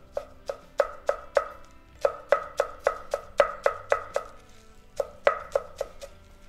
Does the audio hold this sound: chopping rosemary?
yes